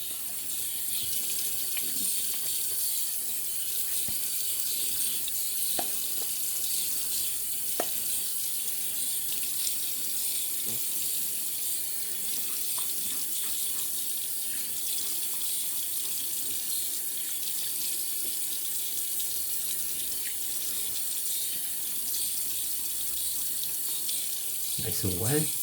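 A bathroom sink tap runs steadily at close range while the face is wetted before a shave, a continuous splashing hiss with small irregular drips and splashes.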